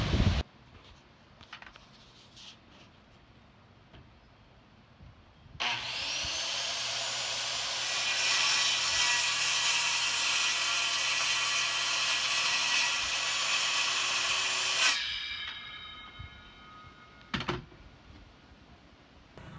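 A power saw whines steadily for about nine seconds, loud and close, cutting through a damaged wooden deck board, with quieter clicks and handling sounds before and after.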